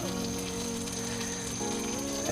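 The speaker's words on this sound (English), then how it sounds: "let's get this ribeye on the grill" A 3 lb bone-in tomahawk ribeye steak sizzles steadily on the grill of an Oklahoma Joe Longhorn, a continuous close hiss over a low mechanical hum, with no talk.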